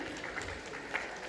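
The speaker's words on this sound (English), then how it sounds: "I must thank you all for actually applauding" Steady applause from an audience at an awards event, a dense wash of many hands clapping at moderate volume, with no voices over it.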